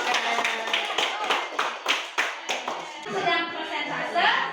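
A classroom of students claps for a classmate called to the front, a burst of close, uneven hand claps that thins out, with children's voices chattering underneath toward the end.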